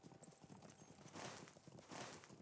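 Horse hooves clip-clopping in the online game The Lord of the Rings Online, a steady quiet trotting rhythm with no other sounds.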